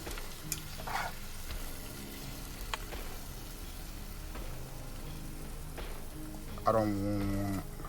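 Sliced apples stir-frying with chicken in a pan for a chicken and apple stir-fry, a steady sizzle with occasional clattering stirs throughout, with a louder burst of sizzling near the end.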